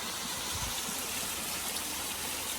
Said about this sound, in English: came across this cool little waterfall